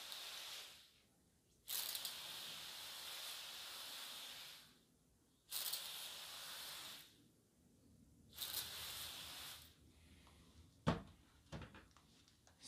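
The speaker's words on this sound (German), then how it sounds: "Und jetzt sprühen wir mit dem Wasser an." A spray bottle mists water over eucalyptus cuttings in three long hissing bursts, each several seconds, separated by quiet pauses, followed by a few short clicks and handling sounds.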